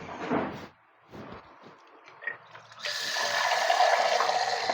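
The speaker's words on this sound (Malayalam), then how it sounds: "ജാറിലൂടെ കുറച്ച് വെള്ളം കൂടെ ഒഴിച്ച് ഞാൻ ഒഴിക്കുകയാണ്" Water is poured from a jar into a pot of stingray curry in a Kerala village kitchen, heard as a steady splashing rush after a few faint clinks and rustles.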